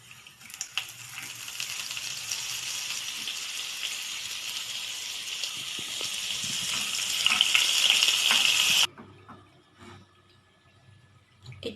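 Butter sizzles in hot oil in a kadai for paneer butter masala, a steady broadband frying hiss lasting several seconds and swelling louder before cutting off abruptly, with quieter kitchen clatter afterward.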